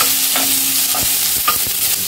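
Chopped onion frying in a pan for mushroom pepper fry, with a steady close sizzle and a few distinct scraping stirs of a spoon against the pan, no voices.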